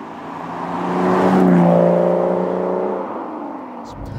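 A 2005 Aston Martin V12 Vanquish S with a manual gearbox pulls under power, its V12 rising to a loud revving swell and easing off, heard up close while driving.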